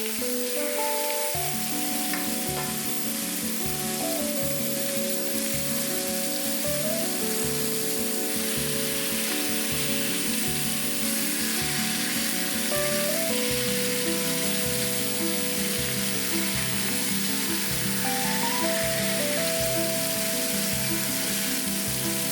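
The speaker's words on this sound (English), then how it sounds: "fry marinated turkey on all sides until golden brown crust forms" Marinated turkey frying in a little oil in a large frying pan, a continuous dense sizzle with crackling and spitting throughout, close and steady, no talking.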